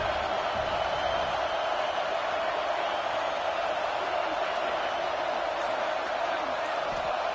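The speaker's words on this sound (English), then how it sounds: "this crowd is coming to help the defense" A stadium crowd in the college football game NCAA CFB 26 roars steadily and loudly on a late fourth-down defensive play, a dense, unbroken wash of cheering noise.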